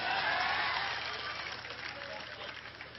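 Applause rolls through a crowd at a political speech in Bhavnagar, Gujarat, a dense, steady wash of clapping that is loudest at the start and slowly thins and softens.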